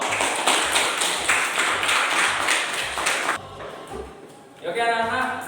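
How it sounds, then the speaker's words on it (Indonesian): A classroom applauds all the student groups with a steady burst of clapping that fades after a few seconds, as a teacher's voice carries on near the end. "tepuk tangan buat semua kelompok"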